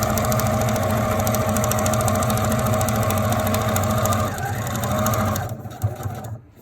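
A sewing machine stitches a fabric face covering in a steady, loud, whirring run with a rapid needle rhythm, slowing and stopping near the end, with no voice over it.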